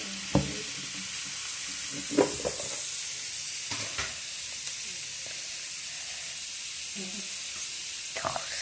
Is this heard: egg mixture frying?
yes